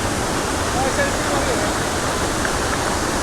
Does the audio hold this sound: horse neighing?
no